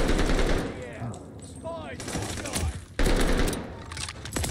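Gunfire in the video game Call of Duty Vanguard, with loud bursts of rapid automatic shots in two clusters and a brief lull between them.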